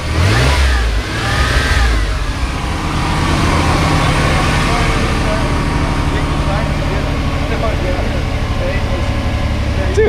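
A Chevy Blazer engine just after a cold start, loud and close, revving and then settling into a steady idle, with people talking over it.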